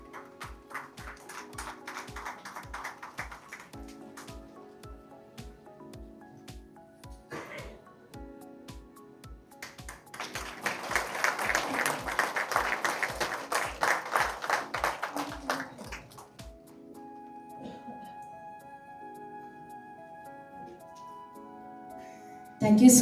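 An audience breaks into applause to welcome a guest onto the stage at a film re-release trailer launch, opening with steady rhythmic claps, then a louder, fuller burst of clapping that fades out.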